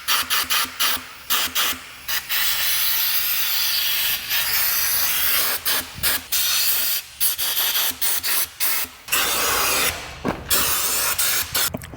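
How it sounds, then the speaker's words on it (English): An air compressor nozzle blasting air under a car's engine area to clear debris, loud rough hissing bursts in quick repeated pulses with brief gaps, close up and continuing throughout. "just go get the air compressor over here"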